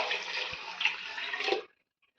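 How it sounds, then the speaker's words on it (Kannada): Water is poured into a pot of rice for chicken biryani: a brief, close, steady splashing gush lasting about a second and a half, then it stops abruptly. "ಇವಾಗ ನೀರು ಹಾಕೊಳ್ಳೋಣ. ಇದೇ ಮೆಜರ್ಮೆಂಟಲ್ಲಿ ಹಾಕೊಳ್ಳಿ."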